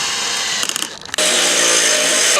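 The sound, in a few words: power drill boring holes for deck spotlights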